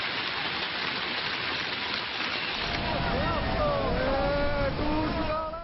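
Heavy monsoon rain pours down in Himachal Pradesh amid flooding, a constant hissing downpour, with voices talking over the rain in the second half.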